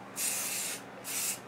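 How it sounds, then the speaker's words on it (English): A spray paint can hisses in two short bursts with a pause between them, close and fairly quiet, used to paint a school desk. "Nothing to this spray can business."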